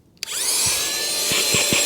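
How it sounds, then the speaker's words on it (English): A handheld vacuum on a car floor mat whines up sharply after a short silence, then holds a steady high-pitched motor drone while bristle-like bumps and rubbing thud underneath. "So we're going to try out this awesome handheld vacuum from TEMU."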